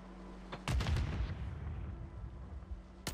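Grenade explosions in Warzone 3, a heavy booming blast that rumbles and decays over a couple of seconds, followed by another sharp burst at the end, with no talking.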